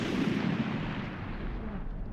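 A grenade blast in a video game registers as a sustained, dense rumbling roar that fills the whole moment and fades slightly toward the end, with no speech over it.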